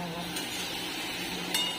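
A spatula stirs and scrapes through a dish of small fried prawns in a pan, giving a steady low sizzle with a couple of faint metallic clinks.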